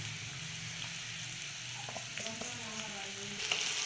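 Sweet potato slices stir-fried with sugar and grated coconut give off a soft, steady sizzle, with faint scraping stirs growing a little busier toward the end.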